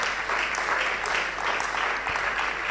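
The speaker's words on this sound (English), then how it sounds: "With a round of applause, help me welcome PSCA Mavis Kwenu." Sustained audience applause in a hall for a panelist at a political panel discussion, a steady dense patter of many hands clapping at moderate loudness throughout, with no voices over it.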